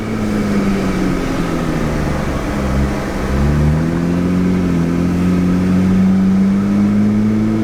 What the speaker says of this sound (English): It's got kind of just like a low rumble when you slowly accelerate, but then you punch on it.